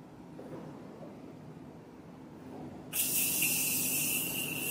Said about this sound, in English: And then finish it off with the Morphe Continuous spray